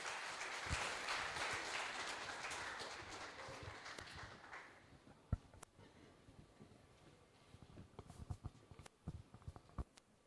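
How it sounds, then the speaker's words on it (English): A burst of audience applause at an automotive development forum fills the first half, then fades to scattered claps and faint room noise. "With a round of applause, let's welcome him."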